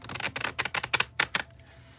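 A quick run of crisp, papery slaps and riffles, close and fairly loud, as tarot cards are shuffled in a few rapid bursts before trailing off.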